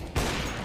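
A sudden burst of rapid video game gunfire cuts in and continues loudly to the end of the short moment.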